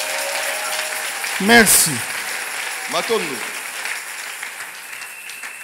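A church congregation applauds and acclaims during a sermon, a steady wash of clapping and crowd noise while a voice speaks briefly over it.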